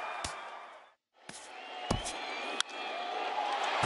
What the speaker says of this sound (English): as this crowd goes crazy